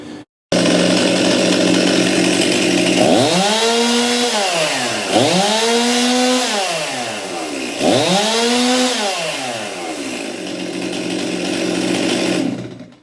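A Stihl MS 261 chainsaw engine with a clogged carburetor and power loss runs loud and close, revving up and down in three long swells before settling into a steady roar.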